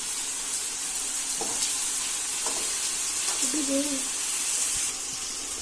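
Radish chutney ingredients sizzle steadily in a pan as they are sautéed, a constant frying hiss with a few faint clinks of stirring.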